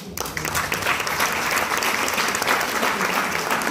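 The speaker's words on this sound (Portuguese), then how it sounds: "A gente merece uma salva de palmas." An audience bursts into applause, a dense, loud and even roar of many hands clapping that starts abruptly and carries on steadily to the end.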